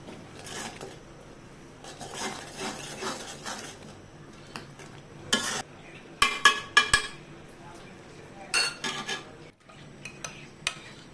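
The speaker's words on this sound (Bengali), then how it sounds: "এখন খুব ভালোভাবে অনবরত নাড়তে হবে।" A spoon stirs mustard paste for a chili pickle in a metal pan, giving repeated scraping clinks and knocks in irregular bursts, some sharp and close, with quieter gaps between.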